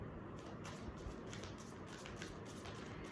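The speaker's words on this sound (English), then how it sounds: "So let's begin shuffling." Soft, steady shuffling of tarot cards, a continuous papery riffle at low volume with no talking.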